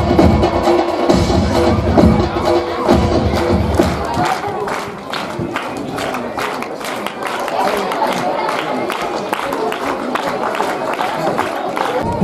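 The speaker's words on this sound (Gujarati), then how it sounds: "તાળીઓ વગાડવાનું ચાલુ જ રાખજો હમણાં" Sustained applause and cheering from a crowd at a primary school Republic Day celebration honoring students, a dense steady clapping throughout with an announcer's voice speaking over it.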